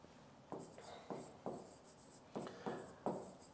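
Chalk or marker strokes on a classroom board, a teacher writing in short separate scrapes, about seven quick strokes spaced unevenly, fairly faint and close.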